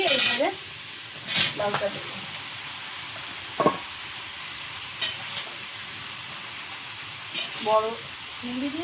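Large prawns seasoned with salt and turmeric fry in a pan, a soft continuous sizzle broken by several sharp utensil clatters and scrapes spaced through it, with a faint voice at moments.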